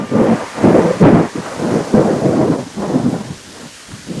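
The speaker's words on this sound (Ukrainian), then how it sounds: "пустився сильний дощ" Heavy rain pours steadily while deep rumbles of thunder roll through, loud and close.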